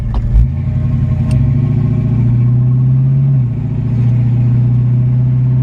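A 1966 Ford Mustang Convertible drives with its top down. The loud, close engine rumbles steadily, with a brief rev near the start and a shift in pitch partway through.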